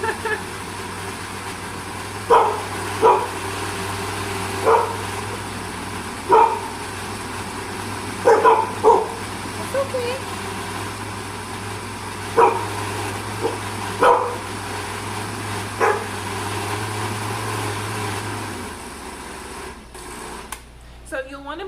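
Dogs bark in short, sharp bursts, about a dozen spread irregularly over a steady kitchen blender hum that stops near the end.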